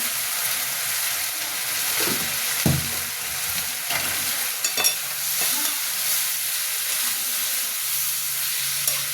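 Spices and tomatoes frying in a pan with a continuous close sizzle, broken by scraping stirs and occasional clanks of a spoon against the pan.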